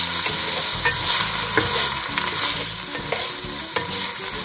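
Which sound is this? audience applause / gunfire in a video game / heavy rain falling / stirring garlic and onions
stirring garlic and onions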